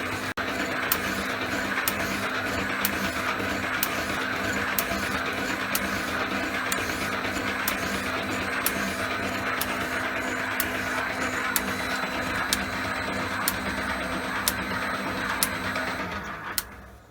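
A shaper machine runs in third gear at 50 hertz while cutting a vice, a steady loud mechanical drone with evenly spaced ticking strokes repeating about once a second until it stops at the end.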